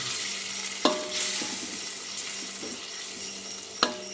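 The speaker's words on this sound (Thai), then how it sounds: "เราจะต้องผัดให้สุกนะแล้วเราก็ใส่สตอทีหลัง ให้หมูก็สุกก่อน" Pork being stir-fried in a pan, a steady close sizzle with scraping stir strokes and two sharp utensil clacks against the pan.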